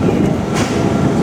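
Steady rumble of a small amusement park train at La Ronde rolling along its track past a parking lot, constant and close, with a faint squeal of wheels partway through.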